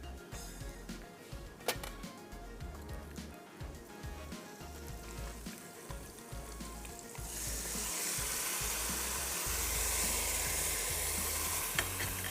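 Beef sizzles and fries in a karahi with spices and onion after beef stock is poured in, a steady close crackle that swells into louder, brighter hissing frying partway through, with occasional stirring scrapes.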